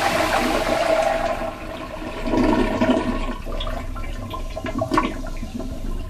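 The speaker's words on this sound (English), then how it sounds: "So you can flush the toilet," A tankless toilet connected directly to the water supply flushes with a forceful close gush and swirl of water that surges, eases and gurgles down over several seconds, with no voices.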